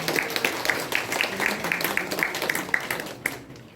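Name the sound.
audience applause opening a literary anniversary event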